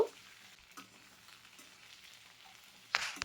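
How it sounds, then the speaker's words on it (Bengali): Chopped onions sizzle in hot oil after potatoes in a pan, a soft continuous frying hiss with a few stirring scrapes, ending in a louder burst near the end. "পেঁয়াজটাকে দিয়েও দু থেকে তিন মিনিট ভেজে নেব"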